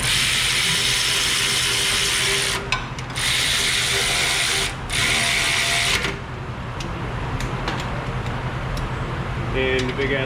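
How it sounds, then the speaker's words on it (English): A large ratchet tightens a brake bracket bolt to torque, giving rapid metallic pawl clicks in steady bursts with brief pauses between strokes, close and loud in a garage setting. "the big ass ratchet to bring it up to torque"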